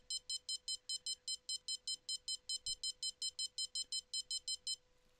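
A bite alarm in the Fishing Planet video game, fishing for gar with bobbers in Louisiana, gives a rapid run of about twenty-five sharp electronic beeps in an even rhythm, clear and alone, then stops.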